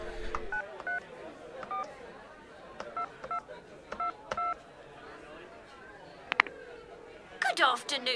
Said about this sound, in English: I'll be a bit cheeky and use a work phone to call up Violet.